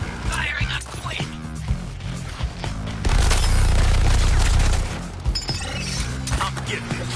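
Artillery barrage in the video game Suicide Squad: Kill the Justice League: dense crashing blasts and shattering debris, swelling into a heavy booming roar midway, with game voices talking over parts of it.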